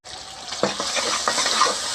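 Potatoes and eggs in a pan are mixed with red chilli, salt, coriander powder and cumin, giving a few soft stirring scrapes over a steady sizzle, close and fairly loud, with no speech.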